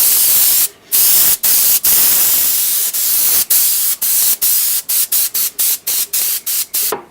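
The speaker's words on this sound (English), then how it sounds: "sometimes the spray doesn't get everywhere it should" Bursts of spray finish are sprayed onto a wooden sign, loud close hissing spurts separated by brief gaps, starting with longer blasts and becoming rapid short squirts toward the end.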